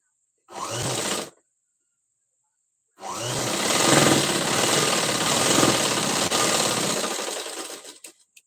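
Sewing machine stitching the folded hem on the front panel of a princess-cut blouse: a short burst of rapid motor whirring, a pause, then a long steady run of close, loud stitching that stops abruptly.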